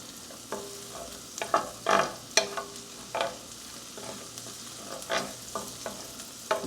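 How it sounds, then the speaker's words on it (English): Onions frying in bacon grease in a pan, sizzling steadily with intermittent louder crackles and spatters from stirring, close and clear with no talk. "You want to have these onions nicely cooked in this bacon grease."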